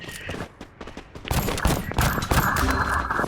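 Rapid gunfire bursts in the Free Fire video game, loud and close, with clustered shots crowding together into a dense fusillade that fills the last half with little let-up.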